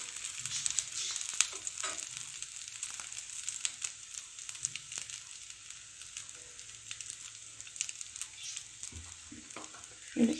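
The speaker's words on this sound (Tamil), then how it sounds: "இப்போது இதை லைட்டாக அப்படி பொன்னிறம் வர்ற அளவு நல்லா வறுத்து எடுத்துக்கோங்க" Bread pieces fry gently in a pan over very low heat until golden, for a homemade bread halwa. A soft, steady crackling sizzle runs throughout at a fairly faint level, with no talking.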